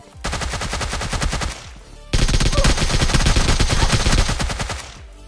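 Rapid automatic SMG gunfire from PUBG Mobile Lite, loud and close, in two sustained bursts separated by a short pause, each burst a dense stream of sharp repeated shots.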